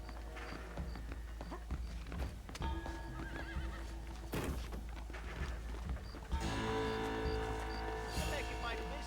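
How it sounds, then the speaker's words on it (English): Horses neighing and whinnying with clip-clopping hooves in Red Dead Redemption, a loud whinny near the start and hoofbeats throughout, mixed with game sound effects and voices talking. "The horses should be in an alleyway down here!"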